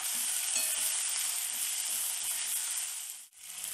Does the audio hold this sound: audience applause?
no